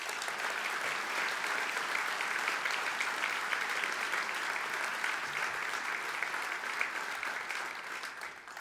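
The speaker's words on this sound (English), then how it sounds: "Would you applaud these folks, please?" Steady applause from an audience at a provincial State of the Province address, even and continuous clapping from a sizeable crowd, fading slightly toward the end.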